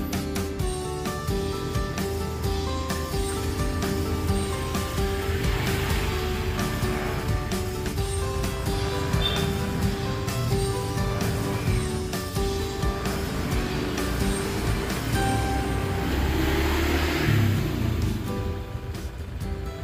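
A Honda Vario scooter engine idles steadily on its double stand during a brake adjustment test, a continuous close hum with a slight rise in revs near the end and no talking.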